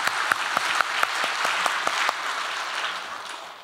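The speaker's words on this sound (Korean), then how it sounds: "그 예수님께 감사 박수 한번 올려드리겠습니다." A church congregation claps together during a Sunday worship service at Full Gospel Daegu Church, with steady dense applause and sharp individual claps standing out, holding full for several seconds before tapering slightly.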